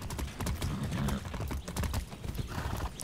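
Horse hooves clip-clopping in the video game Far Cry 6, a quick, steady run of close hoof beats with a brief whinny, over game sounds.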